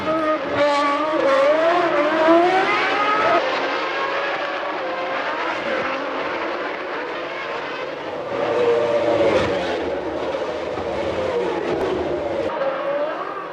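Formula 1 cars racing in 1997, a Ferrari and two Jordan Peugeots, loud high-revving engines whining and shifting in rising pitch sweeps, with cars roaring past over continuous racing noise.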